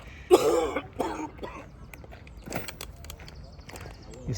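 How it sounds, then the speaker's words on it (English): A couple of harsh, close coughs from hay fever and a throat clearing near the start, followed by quieter shuffling and faint background noises at a petanque match. "You're suffering with that cough"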